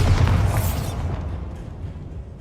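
A Bombarda spell detonates in the Hogwarts Legacy video game as one heavy boom that hits hard at the start, then rumbles and fades away over a couple of seconds.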